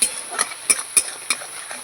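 Spices and sugar being stirred in a pan for fish curry, a handful of short scraping clinks of a utensil against the pan in an uneven rhythm, close and clear with a faint sizzle beneath.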